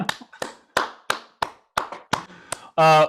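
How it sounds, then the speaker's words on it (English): A single person claps in a guest on a podcast, about ten separate sharp hand claps at an irregular pace, close and distinct, ending in a brief burst of another sound. "I'm just going to clap in our guest, Jeff."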